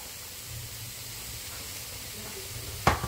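Shrimp and sauce sizzling in a stir-fry pan, a steady soft hiss of frying throughout, then a sharp louder burst of sizzle near the end as the sauce hits the hot pan.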